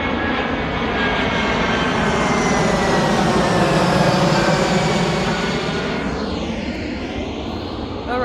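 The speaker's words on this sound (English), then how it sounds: "I live near to Zurich airport and the plane is coming" A plane passes overhead on approach near Zurich airport, its loud engine roar filling the whole stretch and then sweeping away with a falling whine at the end.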